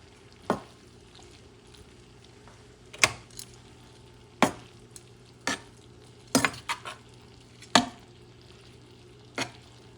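Squid ink pasta with shrimp and scallops is mixed in a pan over low heat, with sharp intermittent scrapes and clatters of a utensil against the pan over a faint sizzle, about eight strokes spaced irregularly, close and alone with no talk.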